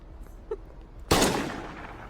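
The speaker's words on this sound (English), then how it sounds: "Wait, let me grab my gun." A single loud gunshot from a gun in a video game rings out close and decays into a short echoing tail after a quiet stretch.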